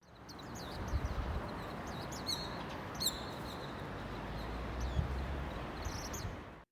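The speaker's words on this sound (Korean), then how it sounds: "벚꽃나무 가지에 벚꽃이 많이 피어 있는데 그 사이에 동박새들이 오가는 그런 영상입니다" Japanese white-eyes flitting among blossoming cherry tree branches in Seogwipo give several brief, high chirps and twittering calls over steady outdoor background noise.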